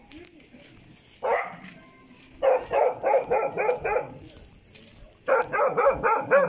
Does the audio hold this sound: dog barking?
yes